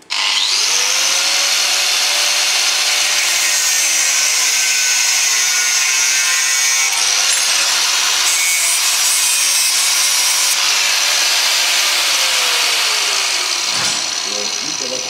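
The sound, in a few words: angle grinder cutting a wooden handle to length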